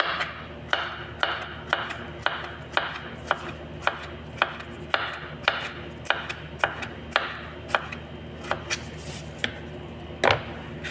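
A knife cutting tomatoes in half on a cutting board for a vegetable salad, a steady run of about twenty sharp chops, evenly paced and close.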